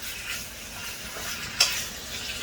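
Steak with pepper and light salt sizzles in a pan, a steady frying hiss with a single sharp clink of utensil on metal just past the midpoint.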